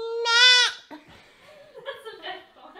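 A person's voice imitates a goat with one loud, wavering bleat, followed by softer vocal sounds and light laughter.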